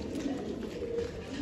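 Domestic pigeons with green paint marks on their feet and under the wing coo softly in a loft, a low, faint burbling against a quiet background hiss.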